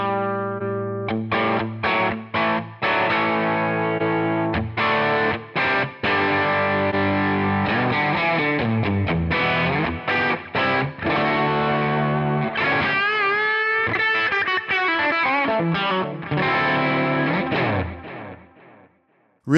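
An electric guitar played through Quad Cortex neural captures at different gain levels, with distorted chords and single notes ringing out, pauses between phrases, and a final fade to silence.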